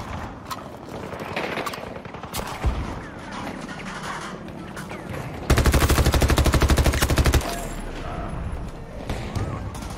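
Rapid automatic gunfire in the Battlefield 2042 shooter game on the reworked Hourglass map, a dense sustained burst of shots loud in the mix between quieter battle noise.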